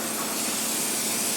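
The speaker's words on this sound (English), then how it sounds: "Now, I'm spraying my pans." Cooking spray sprayed onto baking pans, one continuous close hiss that holds steady from start to finish with nothing else heard.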